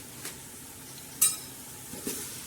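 Whole spices and curry leaves fry in hot oil for a biryani tadka, with a faint steady sizzle broken by a few sharp spoon scrapes and clinks against the pan.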